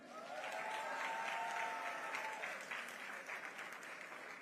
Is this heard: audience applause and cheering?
yes